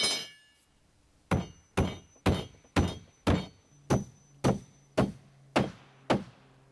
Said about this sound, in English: And nail down 2 2x4s on the flat as blocking for the eave trim.